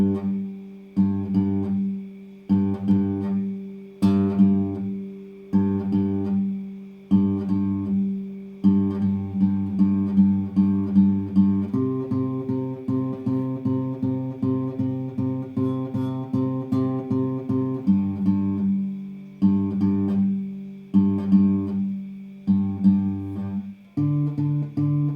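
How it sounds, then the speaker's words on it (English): Guitar playing the bass line, low picked notes on the 5th string in a repeating bluesy riff with short pauses between phrases, close and clear without talk. "So if you just play the bass line without anything else, it sounds like this."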